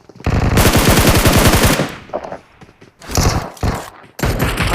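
A mobile shooter game on a Redmi phone fires bursts of gunfire: a long rapid automatic volley up front, then shorter loud bursts and single shots close and dominant, with no talk over it.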